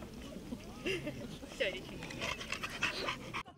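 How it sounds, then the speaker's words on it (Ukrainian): A dog at an unusual fighting-breed dog competition, panting and making brief whimpery sounds close by, heard under people talking and general outdoor crowd noise. "вот злая собака, которая може тільки зацеловать всіх"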